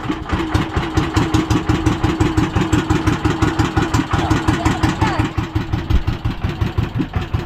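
A large wooden fishing boat's engine chugs at idle with a steady, fast pulsing beat, loud and close throughout, with faint voices in the background.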